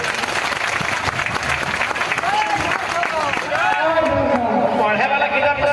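Loud applause and clapping from a large audience at an outdoor political rally in Jharkhand, sustained and dense, with crowd chatter mixed in.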